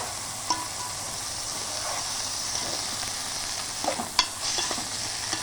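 Chopped tomato goes into a hot pan for a village-style brinjal and dried fish tamarind curry, frying with a constant sizzle while a few scrapes and clinks from stirring rise above it.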